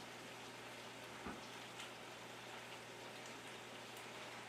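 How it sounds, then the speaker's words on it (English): Venison stir fry with noodles, seasoned with salt and pepper, sizzling steadily in a pan at a cabin, a continuous close crackling hiss with no talk over it. "Got it all sizzling now."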